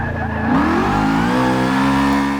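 A supercharged Ford GT350R in the racing game Forza 6 revs hard during a drift, its loud engine note climbing and then holding a steady, buzzy pitch across a couple of seconds.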